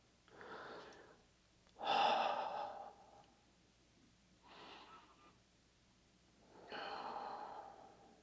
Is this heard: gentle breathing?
yes